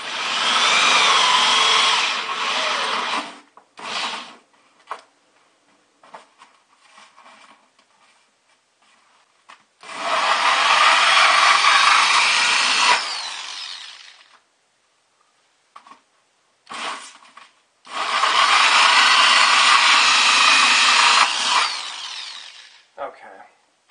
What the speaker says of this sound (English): now I'm going to drill through the liner